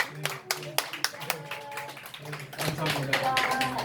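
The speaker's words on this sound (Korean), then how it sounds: "여러분 박수 한번 주세요." Church congregation clapping in a Korean church service, starting as scattered separate claps and building into fuller applause, with voices talking over it throughout.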